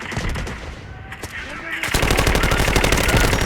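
Gunfire in the shooter game Delta Force: a few scattered shots, a brief lull, then a loud, rapid automatic burst that hammers on without a break, with a voice faintly underneath.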